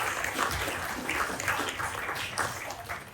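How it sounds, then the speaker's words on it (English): A brief round of applause at an evening ethics prize event honoring the winners, scattered hand claps at moderate volume with uneven bursts rather than a full roar. "Just a quick round of applause for them."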